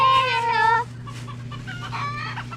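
Chickens clucking and calling nearby on a farm, with a loud run of clucks at first, then softer scattered clucks over a steady low hum.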